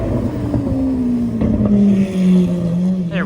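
A supercar fitted with a Lamborghini Aventador SVJ-style wing revs nearby, its loud engine drone swelling and dipping in pitch over a few seconds, with a sharp rising blip at the end.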